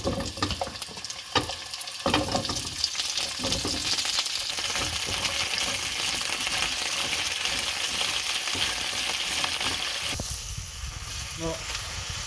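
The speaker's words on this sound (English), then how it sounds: "Now once the oil is heated, I will add my gobi florets." Cauliflower (gobi) florets are dropped into hot cooking oil in a pan and fry with a busy, continuous crackling sizzle, opening with a few sharp pops and staying dense and close throughout.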